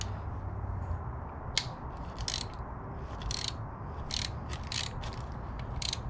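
A ratchet works loose a 10 mm bolt on an Acura TL engine during a teardown, giving bursts of quick clicking pawl ratchets spaced irregularly over a low, quiet garage background, no talk.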